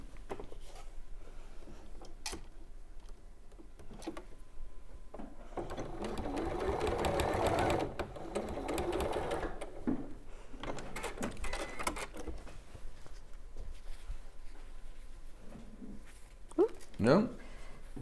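A domestic sewing machine chain piecing quilt fabric for a handkerchief dress quilt, running in a steady close stitching whir that rises in the middle, stops and restarts in short bursts, with someone talking in between.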